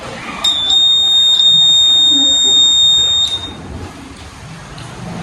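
A simple water-level alarm buzzes with a piercing high electronic tone for about three seconds, then cuts off, leaving quiet background noise.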